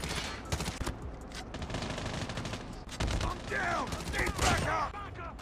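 Rapid automatic gunfire in the mobile shooter Call of Duty Mobile, a dense, continuous fast-firing rattle of shots with explosive impacts layered over it, loud and near throughout.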